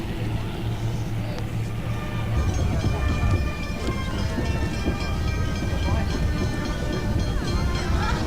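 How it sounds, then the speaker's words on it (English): A train rumbles past close by, blocking a 1988 parade route, wheels clattering and screeching steadily on the rails, with faint voices in the background. "A train has blocked the parade before it could reach us."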